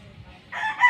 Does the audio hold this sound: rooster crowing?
yes